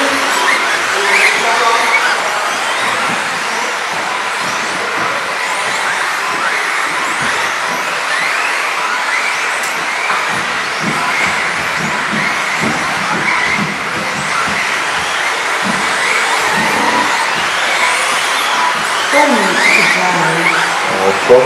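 Four-wheel-drive radio-controlled cars race around a track, a continuous loud buzzing whine of small motors with tire scuffs throughout, while an announcer calls positions over the noise.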